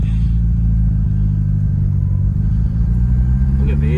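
Low, steady engine rumble from a 1980s Mitsubishi Cordia Turbo car, a continuous deep idle heard close up with little change in rhythm and faint voices in the background.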